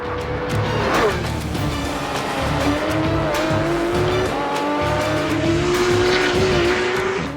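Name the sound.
Porsche 911 GT3 engine revving on race track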